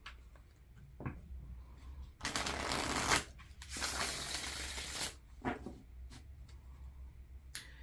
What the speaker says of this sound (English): skip the shuffling and the invitation